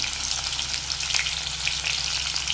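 Urad dal with chopped ginger and garlic fries in hot oil, giving a steady, close crackling sizzle with scattered pops throughout, no talking.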